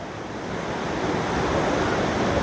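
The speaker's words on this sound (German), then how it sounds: "viele Wellen treffen dich und die schmeißen dich nicht um" Gentle ocean waves roll in at a beach on Koh Chang, making a loud, continuous broadband surf wash with a slight swell in volume and some wind.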